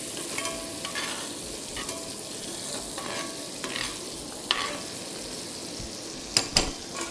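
Beef sizzles steadily in melted butter in a hot pan on high heat, a dense continuous fry close up, broken by a few sharp utensil clinks and scrapes near the end.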